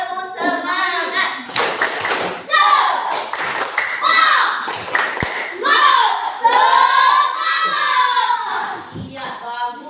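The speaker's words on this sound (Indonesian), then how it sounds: "kita tepuk semangat dulu" Primary school class doing a rhythmic spirit clap in a classroom, bursts of clapped patterns interleaved with children's chanting voices, fairly close and lively.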